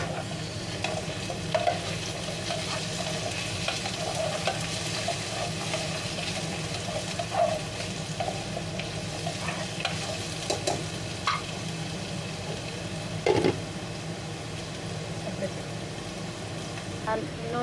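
Sweet and sour chicken fries steadily in a pan with carrots and garlic, giving a continuous sizzle broken by scraping stirring strokes and a few louder clanks, while a voice speaks over it.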